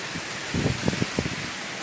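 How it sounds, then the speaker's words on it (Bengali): Dense, steady hiss of heavy rain driven by wind, with a few low thumps and gusts rising in the middle. "প্রচণ্ড বৃষ্টি প্রচণ্ড এমনি হাওয়া তেমনি বৃষ্টি তেমনি হাওয়া দিচ্ছে"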